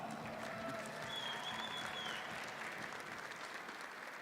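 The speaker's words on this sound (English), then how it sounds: "Let's give them one more round of applause." A Dragon Ball FighterZ finals crowd applauds the finalists, a sustained wash of clapping from a large audience that fills the hall and tapers slightly toward the end.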